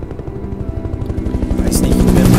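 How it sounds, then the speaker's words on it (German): A helicopter flies in the video game Alan Wake, its rotor thudding in a fast, regular rhythm that grows louder and closer over a couple of seconds. "Fliegen Hubschrauber."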